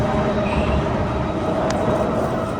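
An SMRT North-South Line train runs between Bukit Gombak and Jurong East, heard from inside the car as a steady loud rumble with a faint whine and one brief high squeal.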